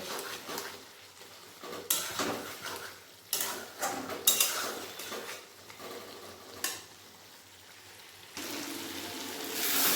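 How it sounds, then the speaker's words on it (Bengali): Mutton stirred and fried in a pot, with a spoon scraping and clanking against the metal in irregular strokes over a continuous sizzle, close and fairly loud. "মাংসটা আর কিছুক্ষণ আমি ভালো করে কষিয়ে নেব"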